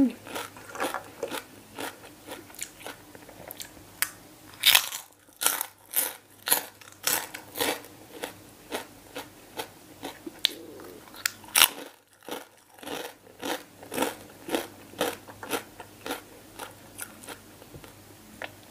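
Pork cracklings are bitten and chewed up close, sharp loud crunches in an irregular rhythm repeating over many seconds, with a couple of brief quiet pauses.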